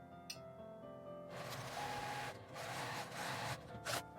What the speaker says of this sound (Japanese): ここを端ミシンで縫います。